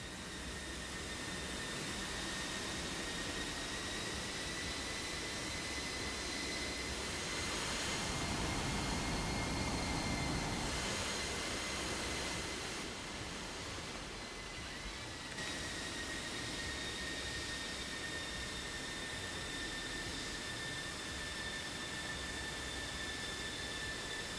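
Jet aircraft taxiing on an asphalt surface in a flight simulation game, heard as a steady broadband engine roar with a high whine, swelling slightly midway and continuing evenly throughout with no talk.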